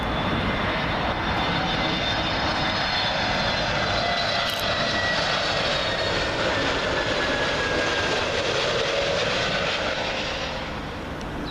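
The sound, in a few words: Aer Lingus A321neo airliner arriving at Heathrow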